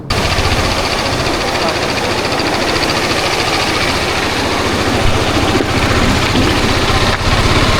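A motorbike engine runs continuously on a ride to Odalarevu beach, a loud, rapid, rattling thrum with wind buffeting, close and steady throughout.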